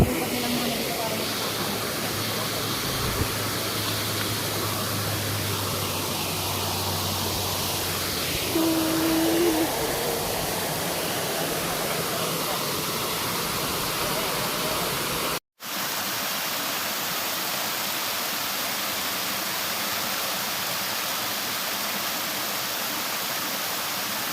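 A waterfall in the hills of Baras, Rizal pours with a constant broadband roar, steady and close for the whole stretch, broken only by a brief cut, with faint voices underneath.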